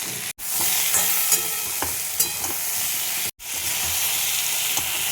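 Puti fish fries in a pan with salt, turmeric and sugar, a loud steady sizzle broken by two brief silences and marked by repeated clinks and scrapes of stirring.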